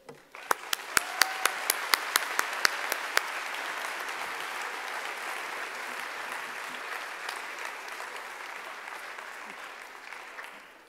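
A staff meeting audience gives the Loan Ops team a round of applause, a sustained crowd wash of clapping with a few sharp, close single claps standing out at the start.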